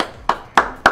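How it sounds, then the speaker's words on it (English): Team hand claps during a live hybrid workout class: three sharp, evenly spaced claps about a third of a second apart, close and crisp. "Here's a team hand clap for us here to push out, push through round 3"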